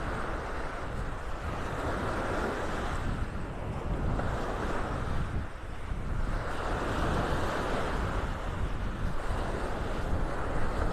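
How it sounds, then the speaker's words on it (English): Southwest wind blows straight into the microphone on Vanderbilt Beach in North Naples, Florida, with heavy, continuous rumbling buffeting that swells and eases in gusts. Surf can be made out underneath. "That wind is coming out of the southwest here. So it's kind of blowing in my face here as I'm walking down the beach."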